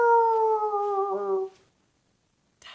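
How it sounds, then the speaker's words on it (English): A lone howl rings out for about a second and a half, a drawn-out wavering cry that fades into silence, followed by a brief faint rustle. "Then he suddenly heard a howling in the distance."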